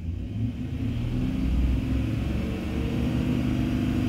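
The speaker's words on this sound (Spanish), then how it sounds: "Acelero de nuevo aquí." A Chevrolet engine with an oil pressure fault, revved as the throttle is pressed, giving a close, steady low rumble that swells slightly mid-clip and stays fairly even, with no talk.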